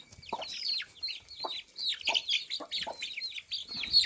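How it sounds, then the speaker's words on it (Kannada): Erode-cross fighter chicken chicks chirp and cluck in rapid, overlapping peeps close by, a busy continuous chatter with no talking. "ಇದೆಲ್ಲ ಈರೋಡಿಗೆ ಕ್ರಾಸ್ ಆದಂಥ ಮರಿಗಳು ನೋಡಿ"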